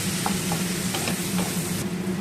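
Ground cumin and coriander powder frying in oil make a short, steady close sizzle with several quick stirring scrapes of a spoon in the pan, with no voices.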